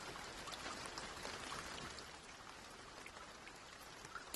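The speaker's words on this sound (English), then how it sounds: "Just that rain sound comes across in the recordings quite a lot." Rain in a sailing race video game, turned down low: a faint, steady patter of drops on surfaces forming an even wash of hiss throughout, with no voices.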